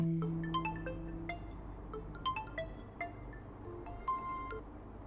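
A telephone rings faintly with an incoming call, a quiet repeating electronic ringtone with short beeps and chimes over a low background hum, and no one speaking.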